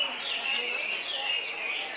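Birds chirp and tweet steadily at the bird and flower market in Kunming, Yunnan, China, a dense layer of high, overlapping calls filling a busy outdoor scene.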